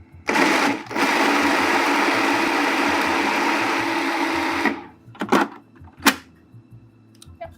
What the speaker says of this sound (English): And you're going to put it in a food processor